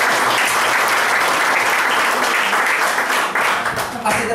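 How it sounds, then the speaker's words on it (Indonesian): Loud, dense audience applause at a motivational seminar, steady clapping filling the whole clip with a few voices mixed in and no pause. "tepuk tangan"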